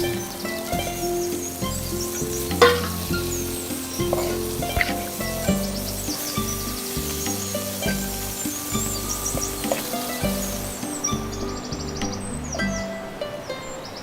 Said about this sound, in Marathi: वा वा वा सुंदर फोडणी झालेली आहे